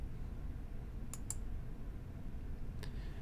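Three quick, faint computer mouse clicks, two close together and one a moment later, over a quiet background hum.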